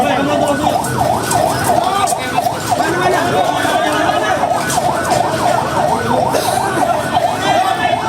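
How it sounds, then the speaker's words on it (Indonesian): Several wailing ambulance sirens overlap, loud and continuous, with rising and falling tones at the site of a commuter train crash in East Bekasi, while crowd noise and voices talk underneath. "Banyak ambulan belakang."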